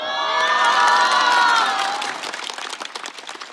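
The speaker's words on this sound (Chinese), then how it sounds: "谢谢大家热烈的掌声啊" A stand-up comedy audience cheers and applauds loudly, with whoops over dense clapping that swells, then thins into scattered claps as the noise fades.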